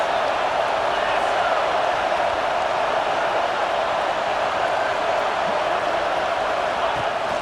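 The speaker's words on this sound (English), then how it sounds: "This crowd trying to make life miserable for this offense." A stadium crowd in EA Sports College Football 26 roars as a steady, dense wall of noise throughout, with no distinct cheers or breaks standing out.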